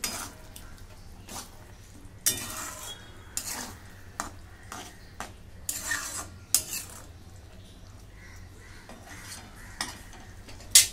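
A spoon stirs egg masala in a pan, giving repeated sharp metallic scrapes and clinks in uneven bursts over a faint background sizzle, with nobody talking.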